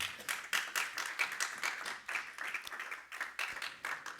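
Church congregation clapping in a steady rhythmic beat, quick sharp claps repeating about four per second, moderately close, with no talking over it.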